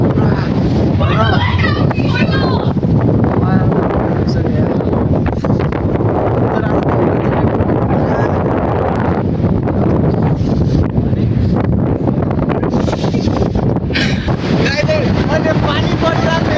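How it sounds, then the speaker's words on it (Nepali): Strong storm winds roar steadily and loudly against the microphone on a high mountain pass, with gusting buffets and a continuous rushing noise throughout, and rain or hail may be mixed in. "यस्तो हाउरी आवाज आइरहेको छ"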